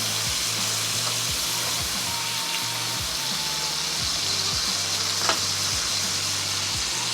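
Angus beef steak burger patty sizzling in a hot pan, a steady close crackling hiss with faint periodic low hum beneath, no talking.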